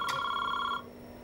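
A telephone rings in one short, loud electronic burst with a clicky start, then cuts off, leaving a quiet room.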